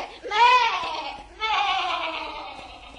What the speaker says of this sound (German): Da sprang die Ziege mit großen Sprüngen davon.